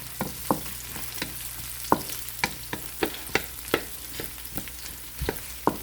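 Vidalia onions fry in oil in a pan for tofu with chayote, a soft steady sizzle broken by sharp, regular clicks of a utensil stirring against the pan, close and quiet.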